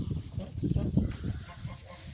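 Wet geese and ducks on a farm murmur and cluck softly nearby, a low jumble of bird calls with no clear talking.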